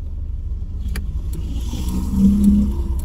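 Car engine idling and pulling away in slow city traffic near a clinic, a steady low rumble with a brief rise in revs toward the end, heard from inside the car.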